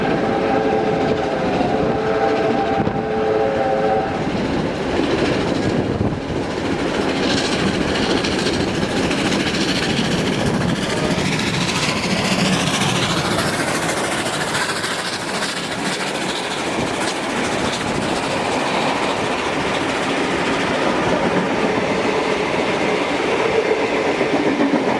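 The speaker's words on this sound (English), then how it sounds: "if you rode a steam engine along these lines, it might have looked something like this" Train running along a railway line, a loud continuous rumble with rhythmic clickety-clack of wheels over rail joints, a brief horn-like tone at the start and shifting wind and carriage noise.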